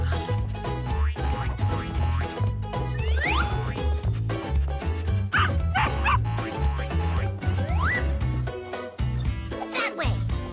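A cartoon dog barks and yips while tracking a scent, its sounds mixed under busy animated music with springy boing effects and jingles throughout.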